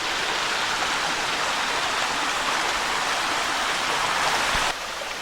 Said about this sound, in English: There's actually another little stream flowing in down from above as well.